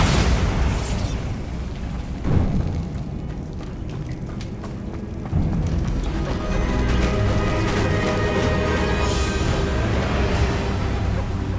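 Bombarda spell blasts in Hogwarts Legacy sound like loud booming explosions and crashes, with a dense rumbling roar sustained throughout and a sharper burst partway through.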